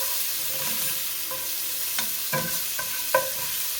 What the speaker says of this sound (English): Give that a little stir up there.